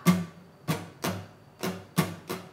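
A guitar is strummed six times in a steady down, down, up, up, down, up pattern, each stroke a crisp, close chord hit that quickly decays, with no talking.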